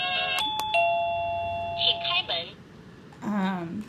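A KEDSUM wireless plug-in doorbell chime plays a short electronic ding-dong melody with two clicks before it, followed by a person speaking briefly over quiet room noise.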